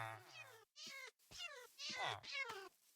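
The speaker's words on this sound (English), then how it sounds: "That's a very strange cat sound." An odd, warbling cat meow from a Minecraft-style superflat video game world, sounding as several drawn-out, pitch-sliding cries in quick succession, loud and close.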